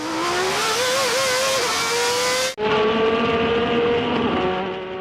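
Formula 1 car on an onboard lap of the Monaco street circuit, its high-pitched engine screaming continuously and loud with rising revs, then a sharp dip as it shifts or brakes before howling again.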